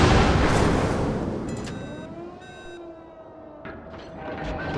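The battleship Bayern's big guns firing in World of Warships, a heavy booming blast that decays into a long rumble, followed by tonal ship sounds and smaller later impacts.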